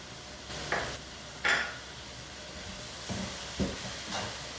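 A spoon stirs chickpea biryani masala with curry leaves, mint and coriander in a pan, giving a few short scraping strokes over a soft, steady sizzle.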